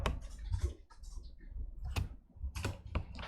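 Keyboard keystrokes, the Tab key pressed repeatedly while setting up editor snippets, come as several sharp isolated clicks spaced through the stretch, close and fairly quiet.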